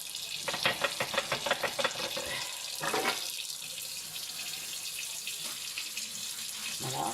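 Tap water runs into a sink while real dishes are washed with a solid dish-soap cake. There is a close, splashing stream with rhythmic scrubbing and clattering bursts early on, then a steadier flow.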